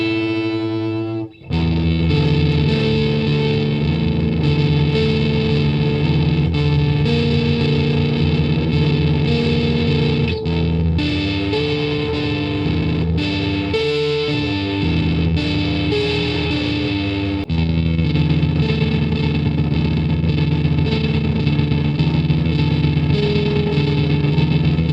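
Electric guitar played through the Arachnid pedal's distortion channel with the roar function engaged: a thick, saturated, loud riff with chords and sustained notes that keeps going without a break after a short pause at the start.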